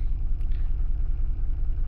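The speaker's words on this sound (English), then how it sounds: "The vehicle right now is at idle." A GM vehicle's engine idles with a steady, low rumble heard close by, even and unbroken, with no talking.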